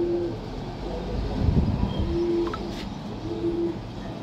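Low, soft cooing calls repeat a few times at close range over a dull background rumble.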